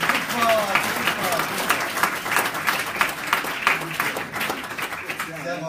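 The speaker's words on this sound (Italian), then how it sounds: "vi chiederei un applauso grandissimo" An audience at a political party presentation event in Cosenza breaks into sustained applause, dense clapping from many hands throughout, with voices and chatter mixed in.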